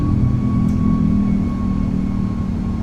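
Airbus A340-600 engines hold a steady climb-mode roar in a flight simulator, a continuous low droning rumble with a faint tonal whine, even and unbroken throughout.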